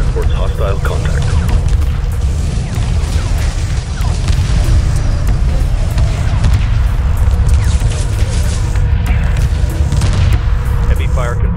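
Weapons fire and explosions from a space battle in Homeworld 2 form a dense, loud, unbroken wall of booms and rumbling blasts, with a voice heard over the din.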